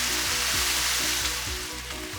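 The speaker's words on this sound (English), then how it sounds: "my onion almost cooked" Onion fries slowly in a pan for zrazy, giving a soft, even sizzle that runs throughout beneath quiet background music.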